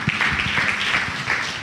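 A church congregation applauding during a worship service, a dense wash of clapping that runs steadily through the short moment with a few louder claps up front.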